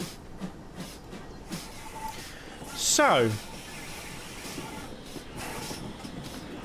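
A locomotive and train in the Railworks train simulator game give a low rumbling run with a sharp, brief hiss of air or steam in the middle, while someone speaks over the top.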